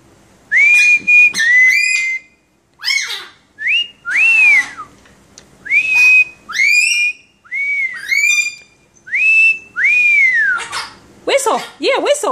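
A mitred conure parrot whistling in clear, close, loud repeated phrases of rising and falling notes with short pauses between them, answered at times by a person talking.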